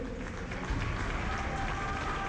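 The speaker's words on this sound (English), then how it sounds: "give it up a big, big round of applause for our seniors" At a men's college basketball game, CUC against Dominican, the gym crowd gives the seniors a loud, continuous round of applause, steady and thick throughout, with a voice faintly audible underneath.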